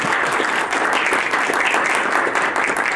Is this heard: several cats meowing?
no